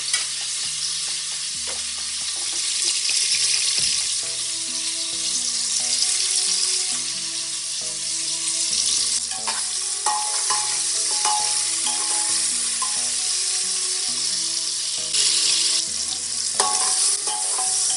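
Onion and tomato sauté in a pan for mutton biryani, with a steady close sizzle and repeated scraping strokes of a spoon through the frying mixture.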